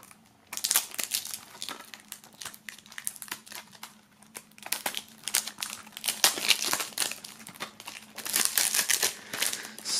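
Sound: cutting open plastic shrink wrap on an album

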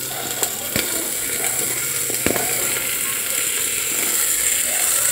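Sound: cucumber added to pan of fried onions

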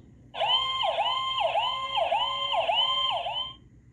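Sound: ambulance siren

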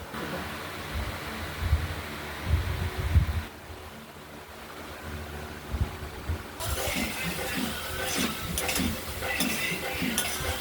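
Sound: spice mixture being stirred and sautéed in pan for fish curry

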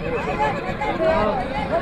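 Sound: mare neighing at horse market

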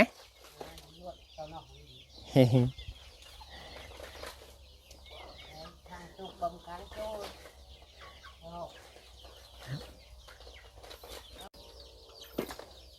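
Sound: chickens clucking at backyard chicken coop

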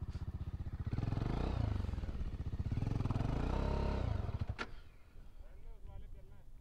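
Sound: off-road motorcycle engine revving, tyre skidding on grass

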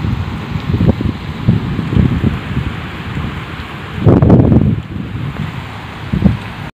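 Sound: rain falling with thunder

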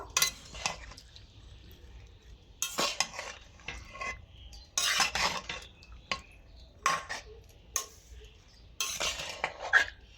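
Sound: stirring salt into cooked raw mango

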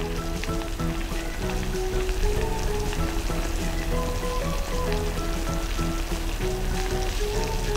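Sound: beaten egg poured into simmering daikon hot pot

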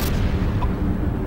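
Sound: explosion in a mecha video game

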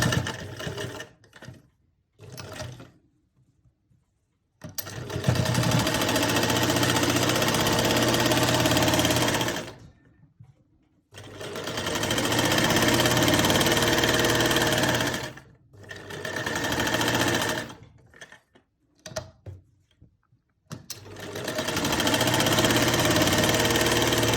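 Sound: sewing machine stitching an armhole seam

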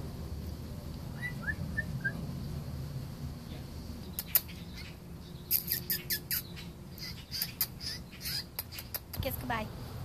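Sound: baby blue jay chirping

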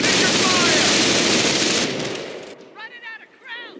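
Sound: light machine gun fire in the video game Company of Heroes

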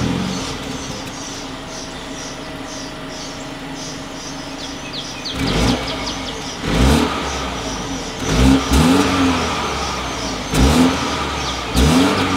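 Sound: 2020 BMW X1 dual exhaust revving

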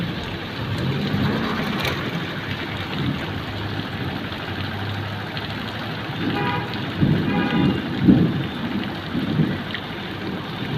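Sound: thunderstorm with rain and thunder

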